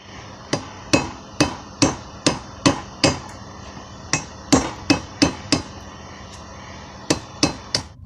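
A hammer strikes a railroad spike being forged into a knife, sharp ringing metallic blows in quick bursts with short pauses between groups, loud and close, no voices.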